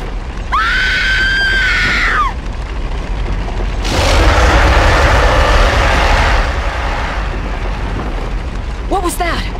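A woman lets out a long, loud, sustained scream in the King Kong video game, followed by a rumbling roar-like burst and a shorter shriek at the end.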